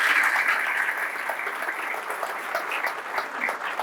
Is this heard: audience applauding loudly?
yes